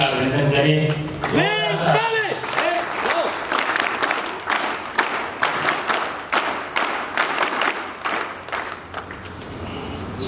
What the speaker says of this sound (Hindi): उन सब के लिए हम सब लोग जोरदार तालियों से उनका अभिनंदन करें।